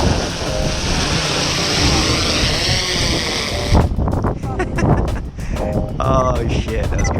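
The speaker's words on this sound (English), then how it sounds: "It's so windy." Strong outdoor wind roars and buffets the microphone in a loud, broad rush, then eases as voices talk over the remaining gusts.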